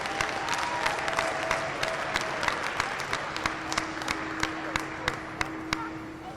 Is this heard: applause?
yes